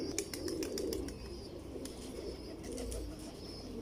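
Pigeons, including a pure Teddy female, coo softly and continuously in a loft, a low murmuring hum under faint chirps and occasional wing flutters, fairly quiet and close.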